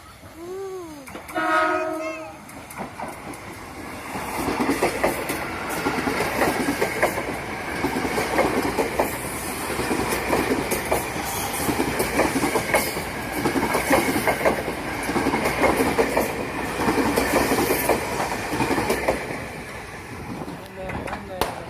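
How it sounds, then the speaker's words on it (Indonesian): A train rumbles past nearby with rhythmic clattering wheels and a brief horn at the start, loud and continuous throughout. "Lihat kereta."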